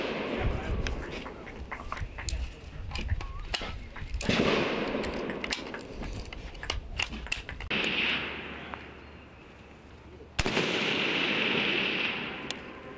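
Sniper rifle shots ring out at a shooting course, several loud sharp reports with long decaying echoes among steady outdoor background noise and some talking.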